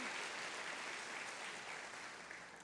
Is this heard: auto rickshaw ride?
no